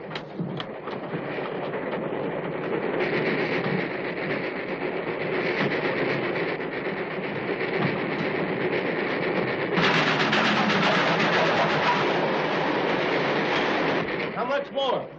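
A steam train runs along the rails in a 1937 action serial, giving a continuous loud rumbling clatter that grows heavier and brighter after ten seconds, with no voices heard.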